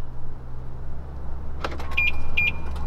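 Short electronic chirps from a BMW answering its factory key fob during a remote start, with a brief clatter followed by two pairs of high beeps over a steady low hum in the background.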